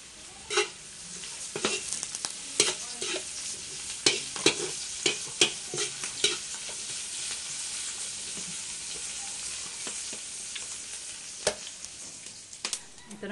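Garlic and onion sauté in a hot pan, a steady bright sizzle under repeated clicks and scrapes of stirring, close and continuous with no talk.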